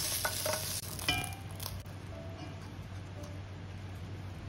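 Braised pork trotters stir-fried in a pan to cook off excess water, a steady close sizzle with scraping stirs and a sharper clatter near the start, no talk.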